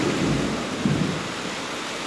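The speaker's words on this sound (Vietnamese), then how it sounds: "Đấy, mưa to quá." Heavy rain pours down with thunder rumbling, a dense steady hiss of rainfall with low booming swells underneath, loud and continuous with no talk.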